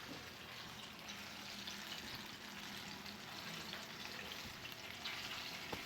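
Pork sizzling and frying in a pan as a steady, dense crackle, fairly loud and continuous with no talk over it.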